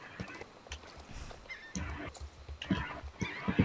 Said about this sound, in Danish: og det er en vild hest...